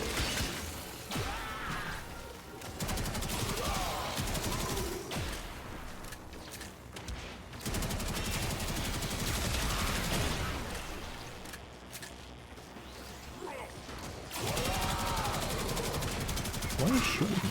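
Rapid bursts of video game gunfire crackle through most of the stretch, dense and fairly loud, broken by short lulls, with occasional crashing impacts mixed in.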